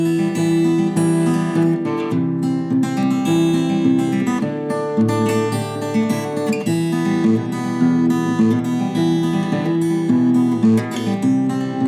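An acoustic guitar plays a steady fingerpicked pattern for a song, with bright plucked notes rolling in an even, continuous rhythm, close and clear with no voice.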